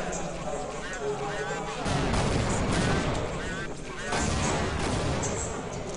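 Gunfire in a Counter-Strike match played in a tournament final, heard as bursts of rapid shots and impacts under continuous excited commentary.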